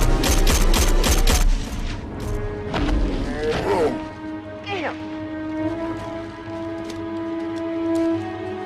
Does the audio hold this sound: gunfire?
yes